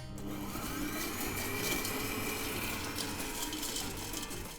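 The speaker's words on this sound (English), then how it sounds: "I'm just gonna whisk that until it's soft, pale, and creamy" Softened butter whisked for a sticky date miso pudding batter, a steady continuous mechanical whir of a mixer running without pause, close and even in level.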